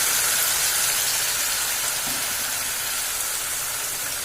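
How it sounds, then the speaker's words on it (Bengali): Marinated chicken poured into a hot pan gives a steady, loud broadband sizzle and hiss that holds evenly throughout, close by with no other sounds. "মাখানো মাংসটা ঢেলে দিয়েছি।"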